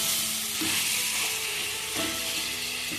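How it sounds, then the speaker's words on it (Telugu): Mixed vegetables frying in oil for vegetable biryani give a loud, even sizzle, with a few soft scraping stirs every second or so; no voices. "ఒక 5 నిమిషాలు ఇలా వేయించుకుంటే సరిపోతుంది"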